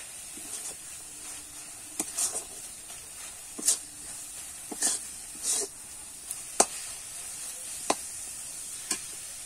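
A raw mango laddu mixture with cashews and raisins stirred in a pan, giving a steady soft sizzle and hiss broken by repeated scraping strokes of a spatula, close and fairly even throughout.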